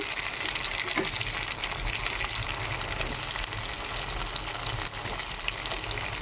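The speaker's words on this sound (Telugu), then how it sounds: "ఎర్రగడ్డలు అయితే ఇలాగ ఫ్రై అయిన తర్వాత టమాటాలు అయితే యాడ్ చేసుకోవాలి" Onions and tomatoes fry in a pan, giving a steady close sizzle with occasional scrapes and clicks of stirring; no voices are heard.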